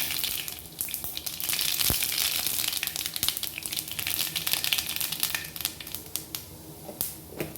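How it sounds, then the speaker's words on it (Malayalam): Mustard seeds spluttering in hot coconut oil in a small pan on the stove, a dense steady crackle and sizzle with scattered sharp pops, close and alone without talk. "കടുക് കുട്ടികൾ ഇട്ട് കൊടുത്തിട്ടുണ്ട് പറയുമ്പോൾ ഒച്ച കേൾക്കില്ലല്ലോ അതാ ഇത്തിരി വെയിറ്റ് ചെയ്തേ"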